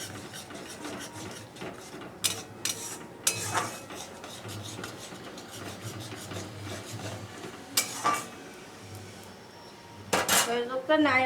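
A spoon stirs hilsa fish curry with sour yogurt in a pan, producing soft, intermittent metallic scrapes and clinks against the pan at close range, with a few louder knocks.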